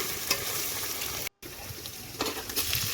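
Ginger garlic paste sautés in hot oil in a pan for veg biryani, a steady close sizzle with stirring scrapes and a brief cut of silence partway through.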